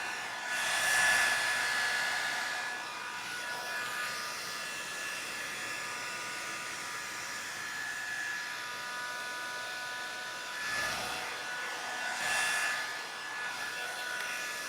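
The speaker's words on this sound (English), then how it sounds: "You want way louder blow dryer?" A blow dryer runs continuously at close range with a breathy rush and a thin whine, its loudness rising and dipping as the nozzle is moved around while styling hair.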